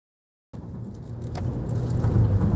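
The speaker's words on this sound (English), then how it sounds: "You can tell by the sound of the motor, I didn't have to hit it really hard." Car engine accelerating to merge onto the I-94 freeway, rising after a moment of silence into a steady, gradually louder motor drone with some rattling inside the cabin.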